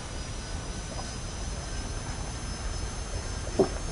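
An A-7D jet aircraft in the War Thunder video game gives a steady, even engine drone that holds at a constant level throughout, with one brief louder blip near the end.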